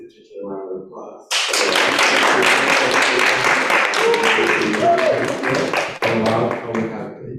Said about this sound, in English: Let's give Chen a round of applause.